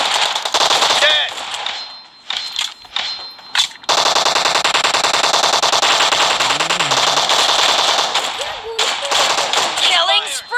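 Shotgun fire in a PUBG team deathmatch, loud close blasts in rapid clusters with gaps between, under excited talk and game announcer voices.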